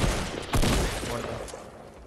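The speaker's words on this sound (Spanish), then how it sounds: "Me están disparando por la espalda" Rapid bursts of gunfire in the video game Fortnite, a sharp loud volley up front followed by continued firing, with a voice talking over it.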